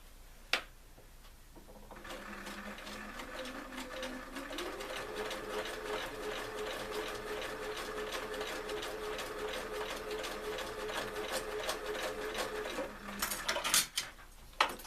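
Sewing machine stitching quilt block pieces together, a fast rapid run of needle clatter sustained for about eleven seconds between short mechanical clicks at the start and end, close and alone.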